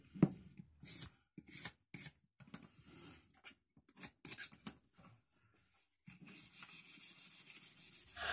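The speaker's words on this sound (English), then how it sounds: "I'm using 320 grit sanding paper here because the handle's in condition, it just needs a smooth off." 320-grit sandpaper rubs over the wooden handle of a short-handled hammer stripped of old varnish during a hand-tool restoration: quiet, close, rhythmic scratchy strokes, then a steady continuous rasp.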